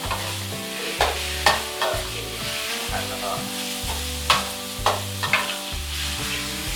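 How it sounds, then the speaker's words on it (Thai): Pork and spring onion are stir-fried in a pan, a steady sizzle broken by rhythmic scraping strokes of a spatula every second or so, with sharp clanks against the metal, close and without talk. "ก็คือผัดไปเรื่อยๆนะถ้ารู้สึกว่ามันแห้งเกินไปเนี่ย"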